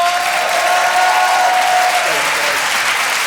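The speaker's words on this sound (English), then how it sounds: "Ladies and gentlemen, please give a massive round of applause." A live podcast audience bursts into loud, sustained applause for a comedian guest, a dense wash of many hands clapping close by for a few seconds.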